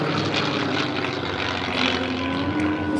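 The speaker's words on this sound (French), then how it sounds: "Si délibérément on vous fait écouter le bruit du moteur" An original Messerschmitt Bf109 E4 fighter runs its piston engine at an air show meeting in France, a loud continuous propeller drone with a steady low tone holding throughout, alone without talk.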